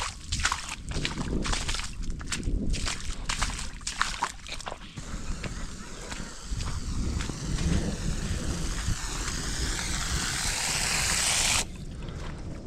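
Heavy rain with hail pounding down outdoors, a loud, dense, continuous roar of drumming impacts that builds steadily before cutting off abruptly near the end.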